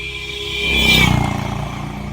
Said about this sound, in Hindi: देखिए मेरे बगल से इतनी तेज बाइक वाला निकला है